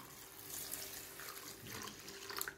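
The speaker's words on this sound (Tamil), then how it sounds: "இப்போ அரிசியை நல்லா வாஷ் பண்ணிவிட்டு ஒரு 20 மினிட்ஸ் வந்து அரிசியை நல்லா ஊற வச்சு எடுத்துக்கலாம்." Basmati rice being washed for vegetable brinji rice, heard as a continuous close rush of running water with swishing and splashing, steady throughout and without speech.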